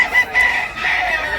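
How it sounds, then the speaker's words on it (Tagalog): Chickens and roosters crow and cluck loudly and continuously at a farm in Tabunok, Talisay, Cebu, with overlapping calls from several birds close by. "Daming manok dito mga idol."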